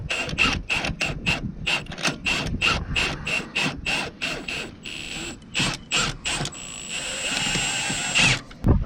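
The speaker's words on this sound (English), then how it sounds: "I'm just gonna give her a go here with the impact" An impact wrench fires rapid rattling bursts as it drives a grease fitting into damaged threads on a Logmax 7000 harvester head, with repeated short hammering pulses and then a longer sustained run, loud and close, with no talking.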